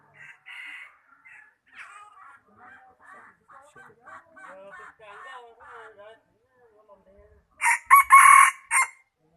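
A small mini rooster crows near the end, loud and close, after a stretch of softer chirps and clucks, with the crow rising in a few bursts.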